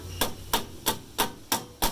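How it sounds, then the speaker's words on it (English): Six sharp hammer strikes on metal laid on a wooden 2x4 board, at a steady, even pace, each a bright ringing clank with a quick decay, close by and with no talk. "Hammer that out on your 2x4"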